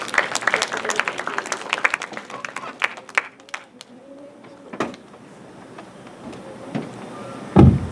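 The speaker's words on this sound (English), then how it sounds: "A round of applause, please." A conference audience at a Japanese-Philippine restoration conference claps to welcome Professor Toshikazu Hanazato, scattered claps that fade out after a few seconds, followed by quieter room noise and a loud bump near the end.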